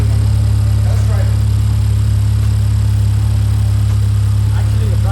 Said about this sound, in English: So the idle's gonna be very high at first. Is it? Yeah, it is. It's over like it's at 1100 right now.